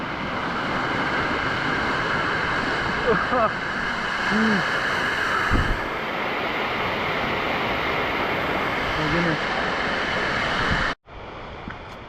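Waterfall on Mount Timpanogos rushing as a steady, loud broadband roar that fills the whole clip, with short exclamations from a nearby person over it before it cuts off near the end.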